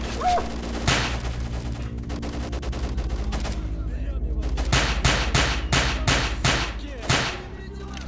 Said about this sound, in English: Shooting the bandits.